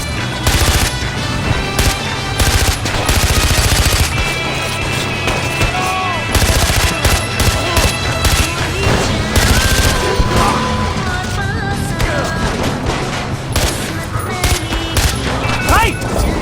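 Sustained automatic gunfire in the video game Far Cry 4, loud dense bursts and rapid fusillades running throughout with brief booms, voices calling out beneath the shooting.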